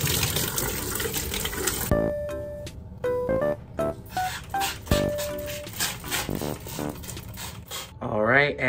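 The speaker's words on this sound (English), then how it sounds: "I'm gonna go ahead and wash it off with some water" Tap water runs in bursts to rinse freshly sprayed houseplants, the splashing broken by clinks and handling noises, with brief tonal squeaks and a rising whine near the end, close by and fairly loud.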